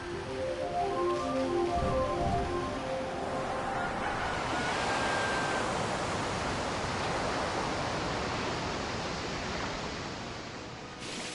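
A broad, steady wash of rushing water in Okami as water is brought back, with soft chimes at the start, surging to a full roar mid-way and easing off toward the end.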